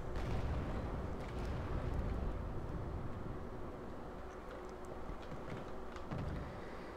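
Tank cannon fire and distant battle explosions in the real-time strategy game Wargame: Red Dragon, a dense rumbling wash of booms, faint and continuous, with sharper shots scattered through it and no speech.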